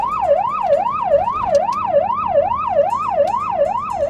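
A Romanian SMURD ambulance siren wails in a fast, regular rise-and-fall pattern, loud and close over faint traffic rumble, with about ten cycles heard and no talking.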